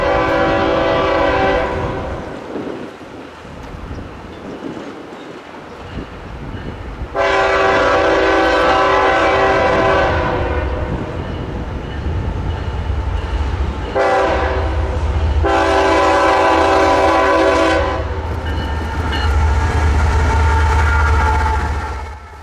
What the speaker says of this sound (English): another mixed freight train is making its way east through Brunswick